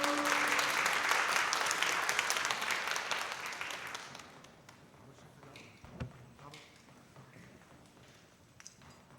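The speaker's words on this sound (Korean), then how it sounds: "우리 그 자리에 앉으셔서 지저스 앤 프렌즈를 뜨거운 박수로 맞이할까요?" A church congregation applauds warmly during a worship service, the clapping loud and dense for about four seconds before it thins into scattered claps and light room noise.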